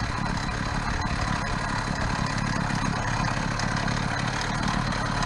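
A small gas engine fitted to a bicycle runs steadily as the bike rolls along, a continuous buzzing drone with no breaks throughout.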